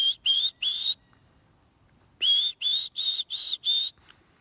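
High-pitched whistling imitating a young turkey: three quick rising whistles, a pause of about a second, then five more in a steady series, loud and close.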